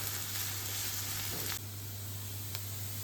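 Continuous sizzle of chopped onion frying in a pan, with a low steady hum underneath, broken by a brief scrape of stirring.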